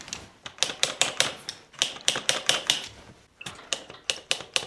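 Quick bursts of sharp metallic clicks, close and crisp, come from a bike's brake cable anchor bolt being tightened, in two fast runs split by a short pause.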